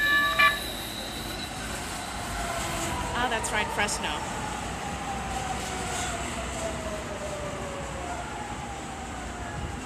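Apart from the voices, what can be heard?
train passing through station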